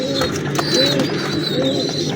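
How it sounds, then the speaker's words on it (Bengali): Kamagar pigeons with young birds cooing in a loft, soft rolling coos repeating in a steady rhythm, close and loud over a dense background murmur. "কামাগার কবুতরের বাচ্চা 2-3 পরে আছে বাচ্চাগুলো"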